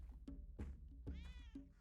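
A cat meows repeatedly inside the video game Spelunky, several short mewing calls in steady succession with one longer, higher meow near the middle, fairly close and clear with no talking over it.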